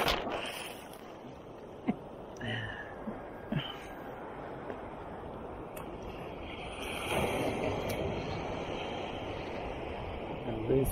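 Ocean surf at John Lloyd State Park pounds a person metal detecting in the water, a steady broad wash of wind and breaking waves that swells louder toward the end, with scattered clicks and knocks.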